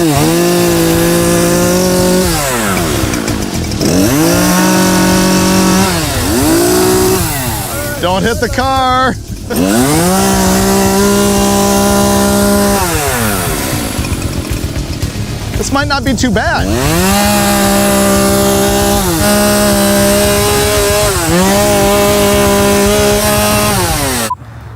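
A chainsaw cuts into a junkyard 1956 Buick, its engine rising and falling in repeated loud bursts with gritty cutting noise, while people talk over it.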